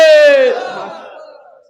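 A crowd at a Muslim religious gathering roars a loud unified chant in answer to a call, one strong sustained shout that fades out over about a second.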